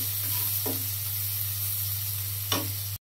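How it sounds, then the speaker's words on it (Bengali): Eggs fry steadily in a pan in a home kitchen, a continuous close hiss of sizzling oil with a low hum underneath and a couple of brief scraping clicks, no voices. "আর এইদিকে এই তো ডিম ভেজে রাখছি"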